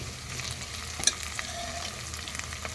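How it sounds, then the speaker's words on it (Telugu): Masala frying in a pan for a mutton curry, a steady close sizzle with a faint scrape near the middle, no talking. "అలా కొంచెం ఫ్రై అవనిద్దాము ఆల్మోస్ట్ ఫ్రై అయిందండి"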